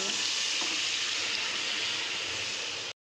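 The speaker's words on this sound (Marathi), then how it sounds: "आता याच्यामध्ये हे वटाणे टाकते" Green peas go into sizzling masala in a pan for a Vidarbha-style pea curry, and a loud, dense frying hiss with stirring runs nearly three seconds before cutting off abruptly.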